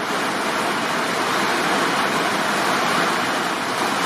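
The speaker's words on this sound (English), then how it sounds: "There's also quite a lot of water running down the inside of the walls here." Water leaks and runs down inside the walls of a decaying building with an indoor swimming pool, giving a loud, continuous rushing hiss like a steady stream, with no pauses or voices.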